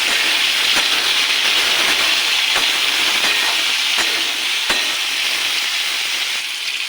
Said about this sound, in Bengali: এবার দিয়ে দেবো টমেটো কুচি আর কাঁচা লঙ্কা চেরা। এটাকে একটু কষিয়ে নেব।